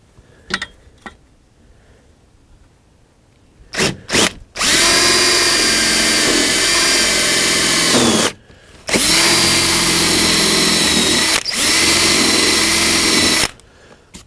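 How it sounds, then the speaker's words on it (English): A power drill whirs loudly in two long sustained bursts into wood after a few clicks and knocks, close up, with a short pause between runs. "we're going to go ahead and drill it down this size."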